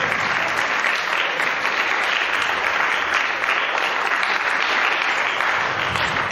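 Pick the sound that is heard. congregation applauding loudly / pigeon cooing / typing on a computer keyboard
congregation applauding loudly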